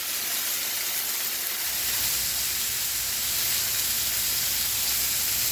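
Ribeye steak searing in its own rendered fat and marrow, a steady close hiss and sizzle that holds evenly throughout with no voices.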